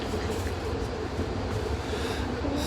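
Steady rumble of a VTA light rail train ride heard from inside the car, a continuous loud drone with faint rail clatter throughout.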